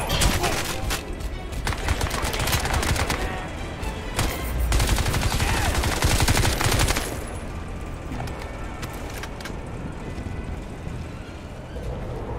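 Gunfire in the Crysis 2 shooter game, dense rapid automatic shots crackling over the first seven seconds amid a loud continuous ambient roar that carries on afterward.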